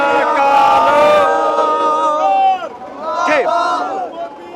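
A crowd at a farmers' protest roars a Sikh jaikara in unison, loud and close, with a sustained shout that dips briefly and then rises again in a second swell of voices.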